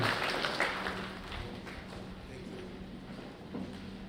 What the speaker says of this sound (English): let us give him a good round of applause as he is coming